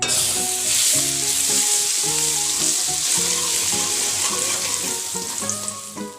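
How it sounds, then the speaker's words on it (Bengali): Grated garlic sizzles steadily in hot oil with a bay leaf and a whole dried red chilli for an egg curry tempering, close and loud for the whole stretch under background music. "তেজপাতা হালকা ভাজা হয়ে গেলে দিয়ে দিলাম গ্রেট করা রসুন"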